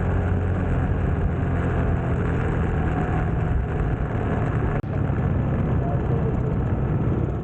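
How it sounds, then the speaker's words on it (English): Heavy city traffic in the Philippines, heard from a moving motorcycle, makes a constant loud rumble of engines and wind noise, with a brief dropout partway through. "Heavy traffic, as usual in the cities in the Philippines"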